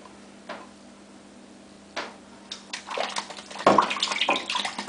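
Tap water runs and splashes as a shaving brush is rinsed, starting with a few isolated knocks and drips, then building into a close, gurgling, uneven stream in a bathroom sink.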